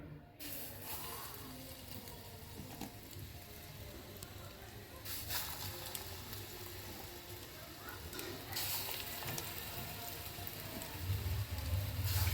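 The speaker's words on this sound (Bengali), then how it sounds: "গরম করে আমি এখন বড়া ভেজে নেব" Urad dal vadas fry in hot oil over medium heat, a soft, crackling sizzle like light rain that holds steady at low volume and grows slightly toward the end, with occasional background speech.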